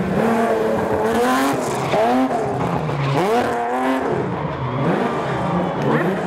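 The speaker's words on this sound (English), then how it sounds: "You don't see too many valiants racing these days other than in classic events, but here is one." A Valiant race car in a classic-car GT series event at Waimate, its engine revving hard and rising through the gears with sharp pitch drops at each shift, loud and close, accelerating past on the track.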